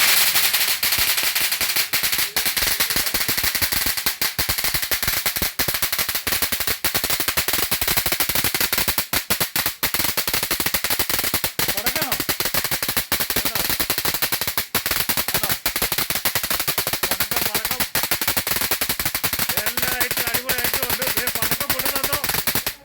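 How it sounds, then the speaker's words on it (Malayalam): An electric firecracker rattles off in a long, rapid, machine-gun-like burst of sharp cracks that runs nearly nonstop and loud for over twenty seconds, apparently at a shop selling Christmas decorations and fancy lights. "ഇലക്ട്രിക് പടക്കം കേട്ടോ, ഇലക്ട്രിക് പടക്കമാണ്."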